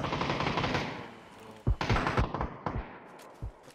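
Bursts of gunfire in PUBG, several sharp shots and a rapid cluster of reports close and loud, following a stretch of dense rumbling game noise.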